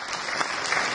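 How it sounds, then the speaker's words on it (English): Steady applause from an audience, a dense wash of clapping hands filling the whole moment without letting up. "Can we actually give these guys a round of applause"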